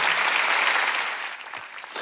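A church congregation bursts into loud, dense applause that holds strong, then thins slightly toward the end.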